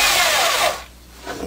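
A variable speed power drill bores into a leather samurai helmet, whining loudly at first and then slowing, dropping off and fading after under a second before a faint rise near the end.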